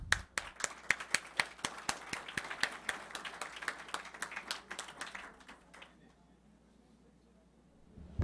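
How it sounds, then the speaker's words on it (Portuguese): Clapping from an audience at an architecture council plenary session, a crisp patter of individual hand claps, fairly distant and quiet, thinning out and stopping about two-thirds of the way through, leaving near silence. "pedir uma salva de palmas para o que nós fizemos aqui hoje"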